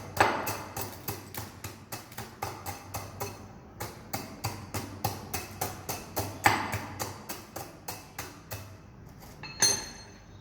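Steady rhythmic thuds of a metal tamping rod compacting aggregate in a cylinder, about two or three strokes per second, fairly faint and continuing throughout.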